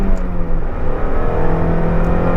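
Mazda Miata engine straining at full throttle in first gear while merging onto a highway, a loud, steady in-cabin drone with rising harmonics and road noise, no talking.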